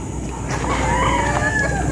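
Bull stag roosters of a high-action line crow in a yard, a single drawn-out cock-a-doodle-doo rising over a steady, loud background of other birds and farm noise, with no talking.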